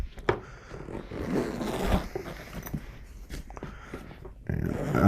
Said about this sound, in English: And unzip it.